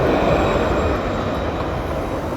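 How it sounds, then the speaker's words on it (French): Tram passing close by on city tracks, a loud steady rolling roar with rail hiss that eases slightly toward the end, no voices. "Regardez notre beau tramway"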